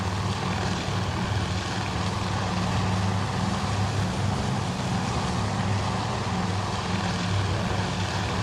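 Twin piston aircraft engines from the naval combat game Task Force Admiral drone steadily and loudly throughout, a continuous propeller hum with a low throbbing tone and no speech.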